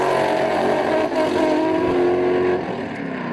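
Nissan S14 race car on a circuit, its engine holding a loud, steady high-revving drone with shifting pitch, heard near and continuous before easing slightly at the end, no talking.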